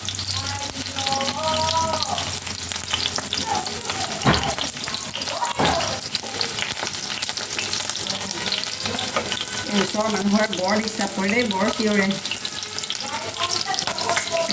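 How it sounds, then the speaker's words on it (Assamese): Onions fry in a pan for a Rajasthani onion curry with a continuous close sizzle and occasional sharper knocks, while voices speak and call out over it. "চাওক মোৰ পিঁয়াজকেইটা ভজা হৈছে"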